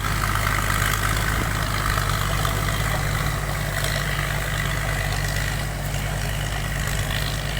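A 260-horsepower JO engine on a rice combine harvester idles at close range, giving a loud, unbroken low drone that stays constant throughout.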